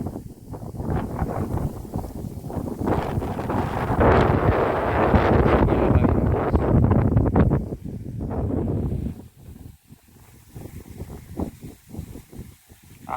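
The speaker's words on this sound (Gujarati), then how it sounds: "પવન છે એટલે તડકો ન લાગે" Wind sweeps across open village fields on a hot, sunny day, producing a loud buffeting roar that swells for several seconds and then breaks into gusty, intermittent bursts, with no voices.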